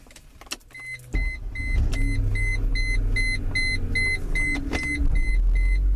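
A car's electronic shift module throws the transmission into gear with a hard engagement: a sudden low thump and clunk, then a steady engine rumble under repeating electronic warning chimes, close and fairly loud, with no talk.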